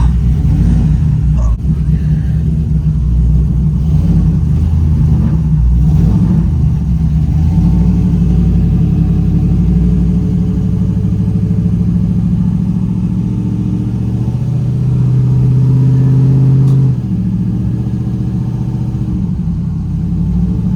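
A 1968 Chevrolet Chevelle with a cammed 5.3-liter V8 drives along a rough road, its deep, lopey engine rumble loud and continuous, swelling into a strong rev partway through before settling back.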